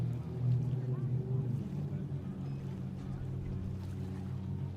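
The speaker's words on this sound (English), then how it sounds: "It's 1600 horsepower of Mercury ROS engine between the two XCats in this final that we are about to witness." XCat racing catamarans with Mercury engines on a speed run at a Kuwait world championship race, a steady, distant engine drone with water rush under a commentator's voice.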